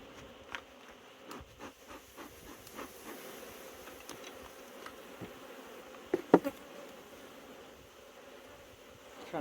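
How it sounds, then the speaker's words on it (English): Bees from a beehive buzzing steadily nearby while a beekeeper inspects and splits the colony, a continuous droning hum with a few louder buzzes as individual bees pass close, and no talking. "We have all kinds of bees down here. We got a bunch of them."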